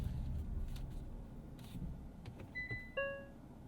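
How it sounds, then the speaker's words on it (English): A 2024 Hyundai Kona Electric parks and sounds a short electronic chime, two clear rising tones near the end, over a low cabin rumble and faint clicks. "You also get fun noises with the Hyundai and Kia EVs as well"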